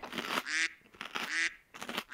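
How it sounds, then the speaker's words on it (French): A duck gives three loud, nasal quacks in close succession, each harsh and brief, with short silent gaps between them. "Un canard. Un canard."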